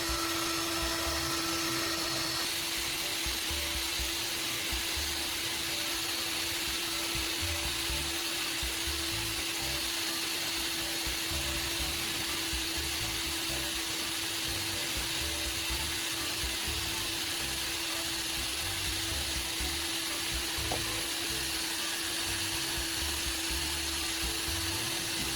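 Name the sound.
drill polishing blade with compound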